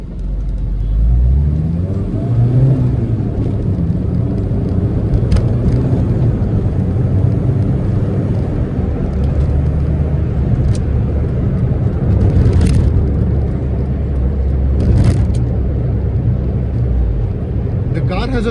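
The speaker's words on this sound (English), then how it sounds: "Has a very grumpy and healthy engine note." A 1.4-litre petrol Tata Indica, about 22 years old, accelerates on Mumbai roads with a deep, bassy engine drone that climbs steadily in pitch, heard up close and continuous for the whole stretch.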